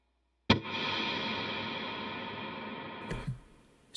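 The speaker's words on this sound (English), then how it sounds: "all the way down, you have a nice reverb sound" An electric guitar chord played through a Line 6 HX Stomp reverb rings out with a long, smooth sustained wash for over two seconds, then is cut off by a muted scrape before another note starts.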